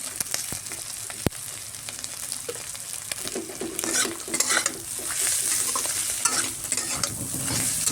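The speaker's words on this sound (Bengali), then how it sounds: "পেঁয়াজ কাঁকড়া লঙ্কা খুব সুন্দর করে ভাজা হয়ে যাচ্ছে।" Onion, crab and chili fry in a pan on a gas flame and are stirred, giving a continuous close sizzle with frequent scraping and clinking from the stirring, and no talk.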